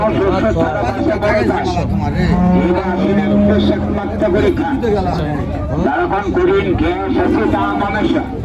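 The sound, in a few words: cow mooing at cattle market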